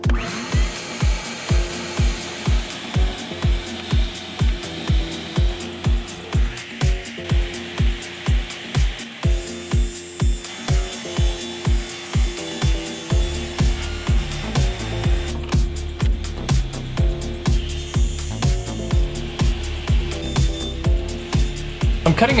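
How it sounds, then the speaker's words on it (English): A power saw rips wood strips for a drill press table fence, its cutting noise steady and loud through the clip, with a rapid rhythmic pulsing early on that gives way to a continuous whine. "I'm going to start by cutting out 2 strips for the fence."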